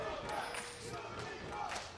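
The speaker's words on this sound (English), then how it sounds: "We've got conflicting cheers. All of them sound positive." A large esports arena crowd at a European League of Legends match chants and cheers together. The roar is steady and distant, with rhythmic rises from competing chants and a commentator's voice faintly audible underneath.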